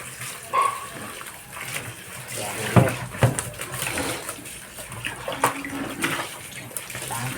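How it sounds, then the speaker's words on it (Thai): Rice being washed in water, with splashing, swishing and sloshing in irregular bursts and a few knocks, close by with soft background noise. "ล้างข้าวก่อนนะจ๊ะจ๊ะสองสามน้ำ"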